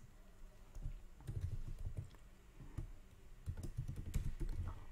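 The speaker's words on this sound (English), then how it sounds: "or I'll type the value here." Typing on a computer keyboard while entering a command for a VirtualBox VM, a steady stream of soft, close keystrokes in uneven bursts with no talking.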